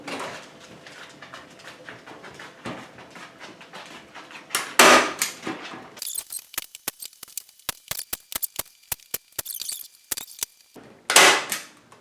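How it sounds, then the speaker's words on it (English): A staple gun fires staples into the lip of a frame for a DIY jewelry organizer, a run of sharp, close clacks in quick irregular succession, with some handling and rustling before and after. "Got the trusty staple gun."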